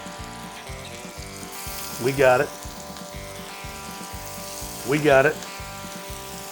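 Bacon slider patties sizzle steadily in hot oil in a pan, a continuous crackling hiss running throughout, with brief speech heard over it twice.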